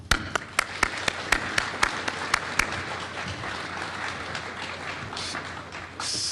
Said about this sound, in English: for all the first teams, you deserve a round of applause